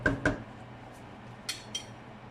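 Utensil clinking against a pot while stirring noodle sauce, two sharp metallic taps up front followed by softer scattered clinks, quiet and close.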